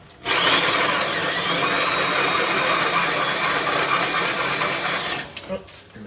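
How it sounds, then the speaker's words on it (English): A power drill runs during step box installation on a Peterbilt 359 restoration, producing a steady, loud whir for about five seconds before it cuts off. "I'm glad Blake didn't ask for his drill back."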